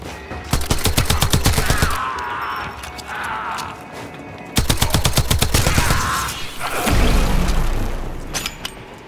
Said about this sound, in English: now let's use the pistol